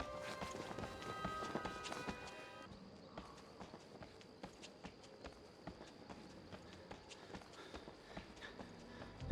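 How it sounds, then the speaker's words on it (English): Footsteps in the video game Outlast, original patch, where steps are louder: a steady run of fairly quick, distinct footfalls over a quiet background with a faint tonal hum, ending in a sharper thud. "The footsteps are a lot louder than they are in the new patch"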